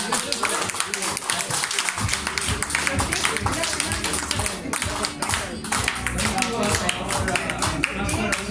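An audience at an accounting association's induction ceremony claps to welcome a past president, a dense, steady patter of many hands that continues throughout, with voices speaking over it.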